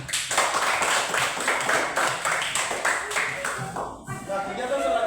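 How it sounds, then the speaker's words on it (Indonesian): Students in a classroom clap their hands in steady, continuous applause that fills the room for several seconds. "Beri tepuk tangan"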